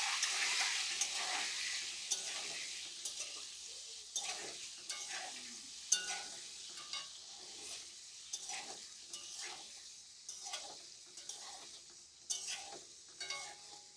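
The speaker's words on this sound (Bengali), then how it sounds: "এবারে ডিমের মধ্যে দিয়ে দেবো অল্প হলুদ, দিয়ে দেবো লবণ, ভালো করে নেড়ে ভেজে নেব।" Duck eggs seasoned with turmeric and salt frying in a pan, a steady bright sizzle with repeated scraping stirs of a utensil against the pan, close and continuous with no talk.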